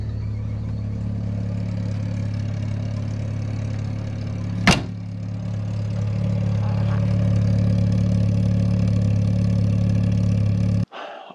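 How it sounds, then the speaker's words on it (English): A VW Golf MK3's rebuilt fuel pump runs with the car low on fuel, a steady droning hum under the idling engine, with a brief sharp click near the middle before the sound cuts off at the end. "I think you can hear the pump going"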